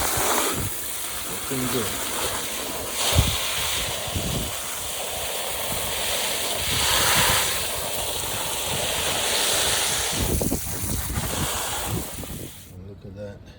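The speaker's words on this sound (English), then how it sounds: "I'm just giving it a normal low pressure hose wash." Steady broadband hiss of a low pressure water hose washing Ford 2V Cleveland cylinder heads after a chemical soak, running continuously with brief splashy bursts, while someone speaks briefly over it.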